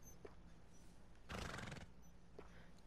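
Horses at a stable in Red Dead Redemption 2, with one loud whinny near the middle, faint hoof clops and snorts before and after, heard close and alone.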